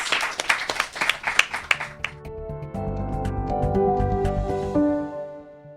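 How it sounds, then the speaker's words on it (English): A brief patter of clapping from a small audience fades out as a music sting swells and carries on alone. "If we can have a round of applause for Sharmaine."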